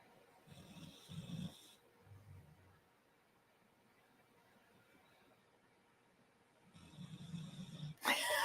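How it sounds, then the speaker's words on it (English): A person snores nearby in a quiet room, with two rough snore bursts at the start and another near the end, separated by a long near-silent stretch. "You do, snoring away."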